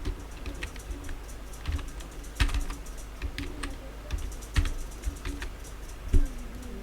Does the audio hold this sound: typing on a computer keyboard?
yes